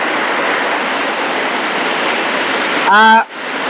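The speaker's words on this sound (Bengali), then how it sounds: "অনেক জোরে বৃষ্টি হচ্ছে" Heavy monsoon rain pours down at an outdoor car fair, a dense, loud and constant hiss that fills the whole scene. A short tonal honk-like sound breaks through near the end.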